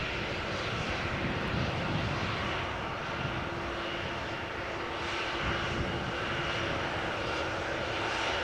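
An ITA Airways airliner in Azzurro livery taxis at Amsterdam Schiphol after landing on the Polderbaan, a continuous nearby jet-engine hum and rumble with a faint steady tone, slowly swelling and easing without speech.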